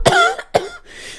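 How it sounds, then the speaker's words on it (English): A person coughs twice in close succession behind a door at the back of a room, loud and near, followed by a short breathy trailing sound. "behind the door leading to the back, you can hear the sounds of someone coughing"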